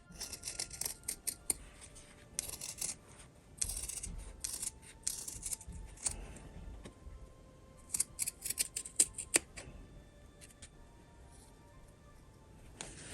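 Scissors snip fabric close to the sewing line of a small glasses holder, with quick clusters of crisp, nearby cuts separated by brief pauses.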